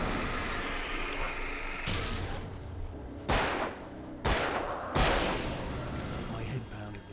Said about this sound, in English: I'd never fired a gun outside a shooting range, and now I just killed someone.